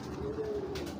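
A racing pigeon coos softly in a short, steady murmur, a single low throaty call heard close by with no talking over it.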